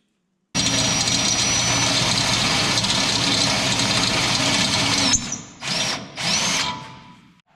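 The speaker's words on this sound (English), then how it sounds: "Gotta drill that hole bigger." A power drill enlarges a hole to 5/8 inch in steel, running loud and steady for several seconds, then cuts out and revs in two or three short bursts as it spins down.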